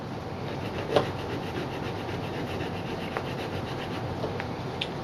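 A small model locomotive frame part rubbed back and forth on a sanding block to remove casting flash, giving a continuous close, gritty scraping with one brief knock.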